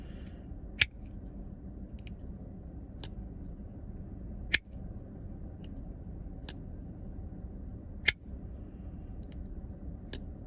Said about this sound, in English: I really like the sounds on this knife